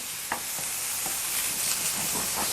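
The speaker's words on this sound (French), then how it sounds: "vous allez laisser mijoter la viande pendant 5 minutes, afin que les oignons soient presque cuits" Meat and onions simmering over medium heat in a pan for burgers, a steady close hiss of frying with a few faint clinks and stirring bumps, no voices.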